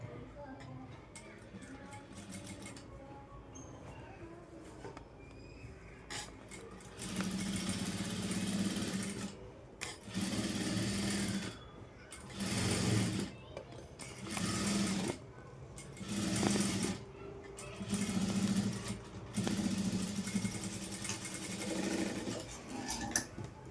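A sewing machine stitches piping on a cross-cut blouse in a series of short whirring runs of a second or two each, with someone talking quietly between the bursts.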